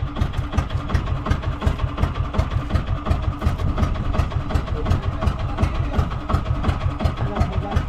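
A boat engine runs loudly throughout a fishing session, its heavy low rumble pulsing with a fast, regular knock, close and steady with no letup.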